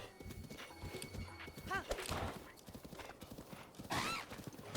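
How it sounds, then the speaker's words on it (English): Rapid hoofbeats of a horse galloping in the video game Zelda: Breath of the Wild, with brief whinnies and a player talking excitedly over the steady clip-clop. "Run, horsey, run!"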